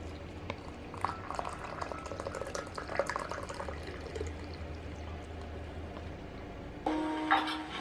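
Hot water poured into a cup, a soft, quiet trickling and bubbling stream that runs steadily before a brief louder splash near the end, with no talking.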